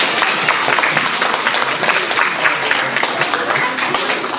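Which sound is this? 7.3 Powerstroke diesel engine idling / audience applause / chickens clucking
audience applause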